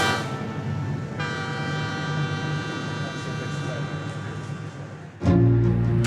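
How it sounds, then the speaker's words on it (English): Constant rumble of a train riding out of New York, a sustained horn-like tone across most of the stretch, then a sudden louder low-pitched shift near the end. "The train out of New York takes about an hour"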